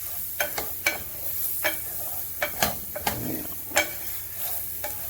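A spoon scrapes and stirs beef stroganoff in a pan, sharp irregular knocks and scrapes landing over a steady background sizzle, close and clear with no talking.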